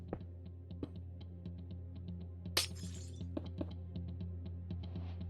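Glass blocks in Minecraft make a single bright shattering crash in the middle, over a quiet run of rapid keyboard and mouse clicks heard throughout.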